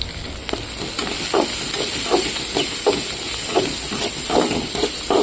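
Cluster beans frying in a hot pan for a spicy onion-chilli stir-fry, a constant hissing sizzle with scattered scraping stirs, close and steady throughout.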